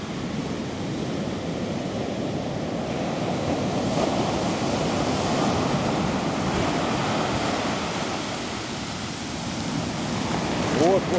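Black Sea surf breaking on the shore on a windless day, a steady, loud wash of rolling waves with broad hiss throughout, swelling slightly near the end.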